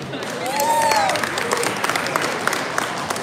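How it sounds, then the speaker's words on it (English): Audience applause at a university freshers party, a broad steady patter of many hands clapping that swells early and carries on to the end, with a few whoops and a tonal sweep rising above the crowd. "they definitely deserve a huge round of applause"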